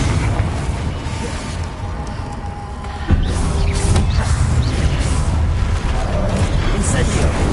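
A Confringo fire blast spell cast in Hogwarts Legacy: a sudden rushing burst kicks in partway through and holds as a dense, roaring wash over a constant noisy game bed.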